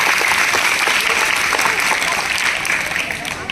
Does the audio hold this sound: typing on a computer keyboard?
no